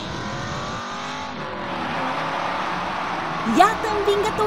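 Cartoon race car in a rally revs its engine under a steady roar of other car noise, with a sharp squealing sweep near the end as the red car wins; speech-like voices run throughout.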